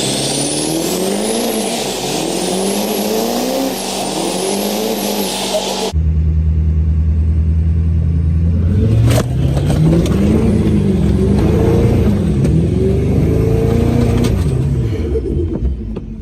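A Duramax pickup truck's engine roars in a backyard, with loud sustained revving and rising, falling pitch sweeps as the throttle is worked, close and dominant throughout.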